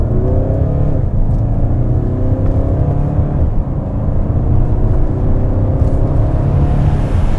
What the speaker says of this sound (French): je me mets en mode sport et là, je vais accélérer à fond.